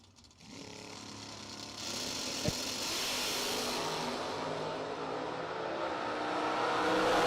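Drag racing cars, among them a 1968 Camaro, launching at a door slammer event: engines roar in from quiet, holding a dense, rising drone that swells steadily, heard from a distance.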